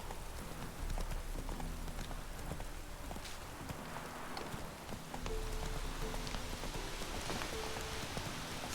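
Horse hooves clip-clopping at a steady, rhythmic gallop in the video game The Witcher 3: Wild Hunt, heard over rain pattering in the background at a moderate, even level.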